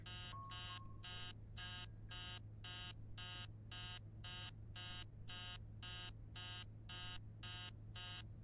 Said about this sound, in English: Maybe leaving the alarm on was a bad call.